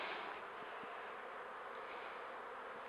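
A dense, steady buzzing of many honeybees knocked off a hive frame during an inspection fills the whole stretch, close and loud, with a couple of faint thumps underneath and no talk.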